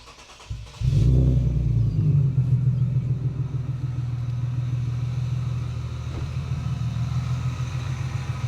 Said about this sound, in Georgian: აჰა, ძრავიც მუშაობს.